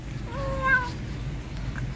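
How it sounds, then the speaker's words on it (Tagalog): A cat meows while eating: a single clear, rising-and-falling meow near the mic, brief and fairly loud over a low indoor background hum. "kita nyo yung pusa na yan ha? Kumakain na nga, ngawa pa ng ngawa."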